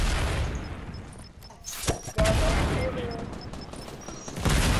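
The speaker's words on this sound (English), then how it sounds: "they're throwing sticky bombs" Sticky bombs going off in Fortnite, heavy booming bursts and a dense rumble with game effects, some beeping tones and a voice in the mix.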